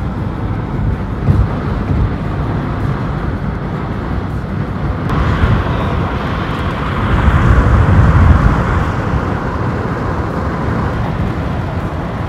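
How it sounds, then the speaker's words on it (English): A Ferrari drives along with a steady broadband rumble of engine and road noise that swells louder toward the middle, no voices heard. "About to jump in my Ferrari."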